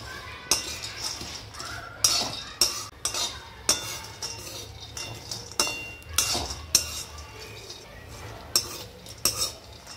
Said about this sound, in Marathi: काजू बी असेच भाजून घ्यायचे आहे आपल्याला।